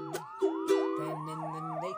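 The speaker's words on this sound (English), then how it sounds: "sound of siren" An emergency siren wails in quick repeated rising and falling sweeps, sounding close and steady over about two seconds with no one speaking.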